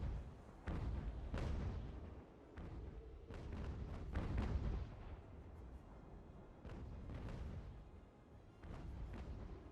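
Heavy naval cannon volleys from warships in Ultimate Admiral: Age of Sail roll out as a series of deep booming blasts, several overlapping shots with rumbling tails spread across the stretch.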